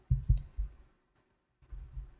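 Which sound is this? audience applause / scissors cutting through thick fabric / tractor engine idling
scissors cutting through thick fabric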